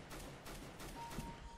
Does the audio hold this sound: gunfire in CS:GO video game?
yes